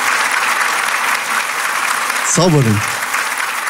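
Studio audience at a televised singing contest applauding the judges with steady, full clapping throughout, while a presenter speaks briefly over it.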